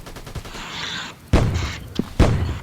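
AK-47 gunfire in the Free Fire video game: several sharp bursts of shots separated by brief pauses, loud and close, with no talking.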